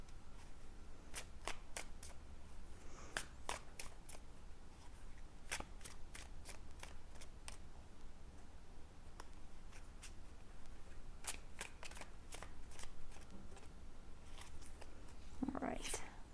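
Tarot cards being shuffled in repeated crisp riffling bursts spread across the clip, close and fairly quiet, with faint handling sounds in between and no talking.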